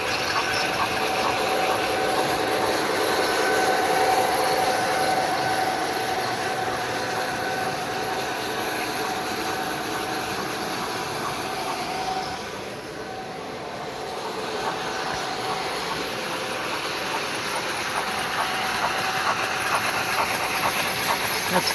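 A model Amtrak locomotive runs at a hobby train show, giving a soft steady whirring hum with a faint hiss over low hall ambience, fairly quiet and continuous.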